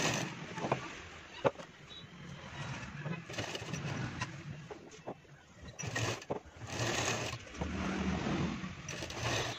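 A sewing machine stitching a women's shirt collar, running in intermittent bursts of whirring with short pauses between, close and moderately loud over a noisy room background.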